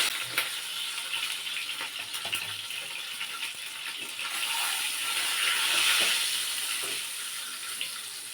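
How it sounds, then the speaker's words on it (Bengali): Eggs frying in a pan with turmeric powder, a steady broadband sizzle throughout with a few faint clicks, swelling slightly louder toward the middle and with no voices. "ডিমগুলো ভাজা হয়ে গিয়েছে তুলে নেব"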